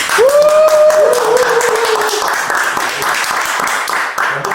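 Dense, steady applause from an audience at an alumni association gathering after a Q&A session. The clapping fills the whole stretch at a fairly loud, even level, with a thin whistling tone drifting over it early on.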